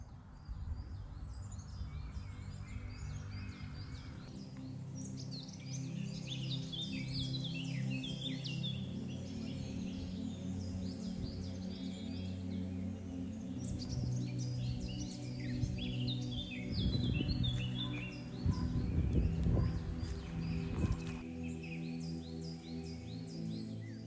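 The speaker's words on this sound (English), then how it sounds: "I can just come out here, the birds are chirping." Birds chirp and trill outdoors on a nature walk, several calls repeating at moderate distance over a low, steady background hum, with no talking.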